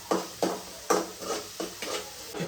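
Onions are sautéed in a pan for a homemade tomato gravy. A spoon scrapes and stirs in a steady rhythm of about six strokes, over a faint sizzle, close up, with no speech.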